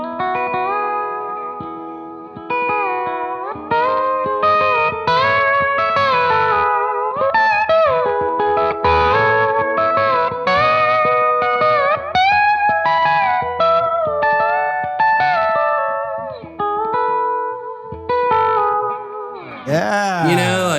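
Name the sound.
electric guitar with internal B bender played with slide, pedal steel style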